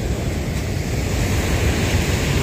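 Big ocean waves surge during a stormy spell, a close, loud, continuous rushing roar with wind buffeting and no voices.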